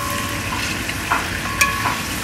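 Meat frying in a pot for Uzbek pilaf, a steady close sizzle with a few brief clinks of stirring, no voices.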